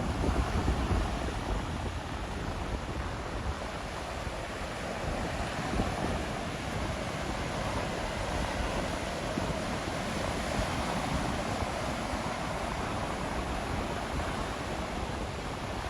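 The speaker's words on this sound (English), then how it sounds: "Look, the wind is blowing this way." Steady wind roaring across an open beach with surf breaking, a dense continuous rush of noise with no distinct waves standing out and no voices.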